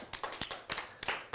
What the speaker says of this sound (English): Give her a big round of applause here.